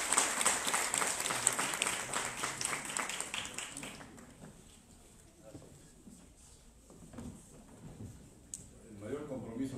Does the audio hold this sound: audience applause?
yes